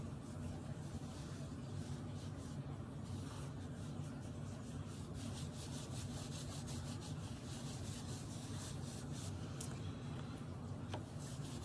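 Items being scrubbed clean with acetone, a soft continuous rubbing and scraping with quick repeated strokes, close and faint, with no talking.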